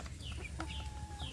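Soft, faint clucks and chirps from free-range village chicks (ayam kampung) in a rearing pen, scattered over a low background hum.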